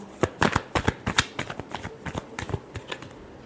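Tarot cards being shuffled by hand in quick, crisp riffling bursts, close and clear, with rapid flutters of the cards followed by brief pauses.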